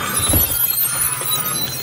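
A piercing sting sound effect from the film Mad God, a sharp bright burst with a low thud near the start that fades into a harsh, shimmering high-pitched hiss lasting under two seconds, with no voices.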